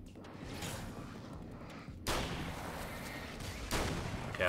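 Shotgun blasts in the horror action game Alan Wake's American Nightmare, heavy booming reports at about two and four seconds over a dense, continuous rumble of game noise.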